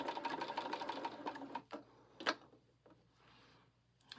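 A sewing machine stitches the mitered corner of a Valentine mug rug, a fast, steady rattling run of stitches that stops abruptly halfway through, followed by a few isolated clicks and faint handling noises.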